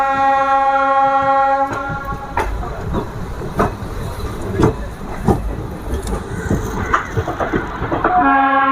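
A train pulls into Pathankot Junction railway station on the Dhauladhar Express route, with a sustained horn chord at the start and end framing a steady run of loud wheel clatter and rhythmic rail knocks.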